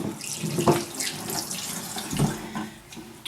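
Tap water pours steadily into a kitchen sink to soak wonton wrappers for a sesame ahi tuna salad, a close, continuous splashing flow with small bursts and no voices.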